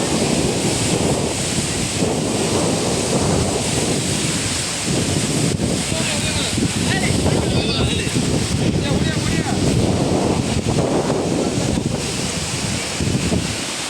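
Rushing water pours steadily at Manimuthar Falls, a loud continuous roar of falling water that fills the whole scene close by without pause, with no clear voices above it.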